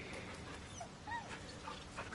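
A dog in a fantasy video game set in Faerun gives a few soft, high whimpers and whines over a steady background hum, fairly faint and with no talking.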